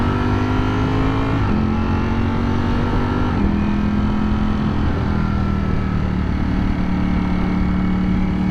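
A Ducati Streetfighter V4S motorcycle engine runs steadily and loudly close by, its droning pitch stepping down in several stages, with no talking.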